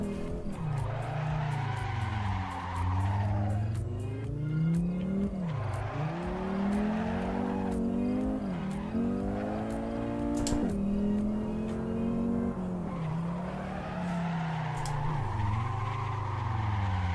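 In the Assetto Corsa video game, a car drifts through repeated slides, its engine revving up and down in long sweeps while the tyres squeal steadily underneath, loud and continuous for the whole stretch.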